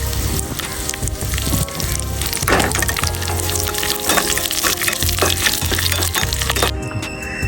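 Mustard seeds splutter and pop in hot oil as dried red chilies and curry leaves fry, a dense, close crackling sizzle with scattered sharp pops throughout.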